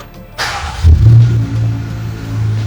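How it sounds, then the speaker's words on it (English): A 2023 Jeep Sahara Jeepers Edition fires up nearby: a brief starter crank, then the engine catches with a loud low rumble and settles into a steady idle. "We're gonna turn it on"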